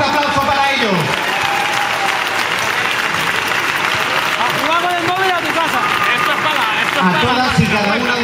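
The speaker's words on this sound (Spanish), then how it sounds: "¡Un fuerte aplauso para ellos!" Crowd at a town patronal festival opening speech in Torrejón de Ardoz applauding loudly and continuously, with cheers and scattered shouting voices rising over the dense clapping.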